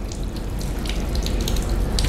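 Water is poured over the feet during ablution (wudu), a continuous close splashing stream that runs steadily throughout with no talking.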